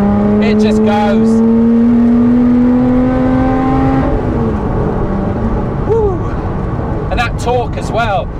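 A Lotus Exige 390 sports car pulls hard, its engine note rising steadily and then dropping as it shifts, with whooshing exhaust and brief revving bursts, heard loud from inside the cabin.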